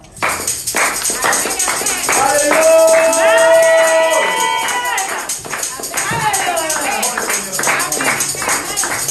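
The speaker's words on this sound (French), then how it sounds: "Nous allons recevoir ce soir le pasteur Honoré avec vos acclamations." A church congregation welcomes a pastor at a Saturday evening service with clapping and cheering, a loud swell of voices and claps that rises in the middle and then eases into scattered clapping.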